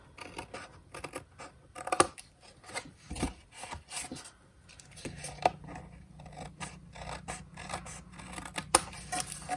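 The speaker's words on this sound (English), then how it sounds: "I'm going to grab my paper snips, and I'm just going to open the card, and I'm gonna trim off" Paper snips trim excess card stock in a run of quiet, close, irregular cuts and rustles, with no talking.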